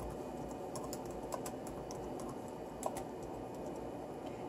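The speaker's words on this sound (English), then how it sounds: "you're going to type in list disk" Command-line disk setup commands typed on a computer keyboard while preparing a 3TB hard drive as a boot drive, a quick run of close, light key clicks with a couple of sharper taps and no voices.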